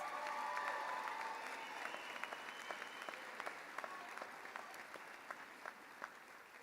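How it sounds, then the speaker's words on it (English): Graduation audience at a high school commencement claps in a sustained round of applause, fairly distant and faint in a large room, with a few sharper claps standing out as it tapers. "Give yourselves a round of applause."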